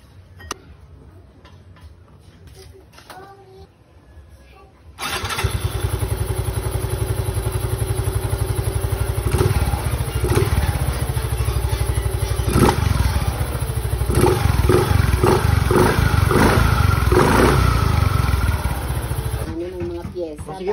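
A Yamaha Mio i 125 scooter engine starts up after a few quiet seconds of clicks and handling, then runs loud and steady with rattly ticking and occasional thumps, with a voice heard faintly underneath.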